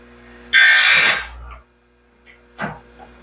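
A sawmill band blade being sharpened on a grinder, with one loud burst of abrasive grinding lasting about a second, then a short quieter touch of the stone a moment later.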